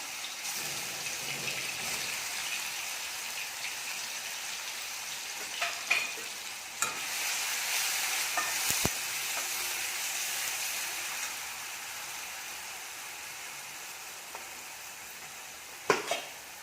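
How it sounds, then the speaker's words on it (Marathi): Steady hissing sizzle of crushed garlic and green chillies frying in hot oil, with occasional sharp clicks and spatters, close and continuous. "ठेचून घेतलेला लसूण मिरची टाकून घेऊया"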